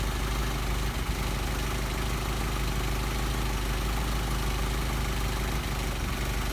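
An engine fed by 44PHH Solex carburetors idling steadily at about 700 rpm during idle mixture adjustment, a constant close rumble with no change across the stretch.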